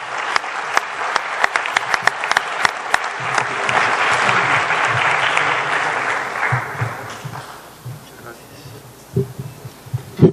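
A church audience gives loud, sustained applause to welcome Dr. Armando Alducin, the dense clapping swelling and then fading out over several seconds, with a few scattered claps near the end.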